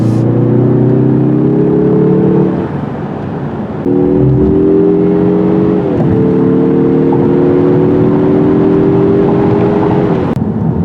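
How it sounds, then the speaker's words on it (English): A 2021 Mazda 3 Turbo sedan engine pulls on a backcountry road, a loud, smooth in-cabin drone that climbs steadily in pitch through several gear changes with brief dips between them. "Oh yeah, and the smooth engine power too."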